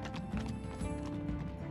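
Horses walk at a slow pace in the Minecraft Story Mode video game, their hooves making soft, even clip-clop steps under a low game soundtrack, faint and with no talking.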